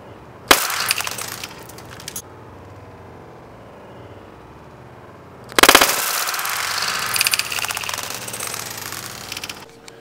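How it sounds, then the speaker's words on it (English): Dual-wielded S Thunder grenade launchers fired in a shooting test: a sharp loud crack near the start, a brief rattle, then a heavy burst followed by crackling, shattering debris that slowly fades. "one shot right here from one of the last shots of the grenade launcher"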